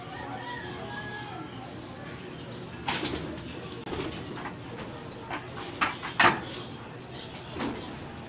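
Pigeons coo softly in a loft amid low background noise, with a few sharp knocks and clatters of movement in the middle.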